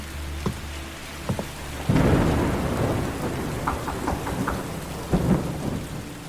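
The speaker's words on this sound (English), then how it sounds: "As I got out of the car, lightning lit up the sky. The trees making a jagged display through the rain." Heavy rain pours steadily while a loud, close thunderclap breaks in and rumbles on, with softer thunder cracks and rain spatter before and after it.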